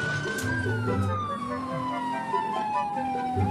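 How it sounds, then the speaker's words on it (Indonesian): A police siren holds a long slowly descending tone over engine rumble, loud and close, running continuously without speech. "Kita pasang sirine."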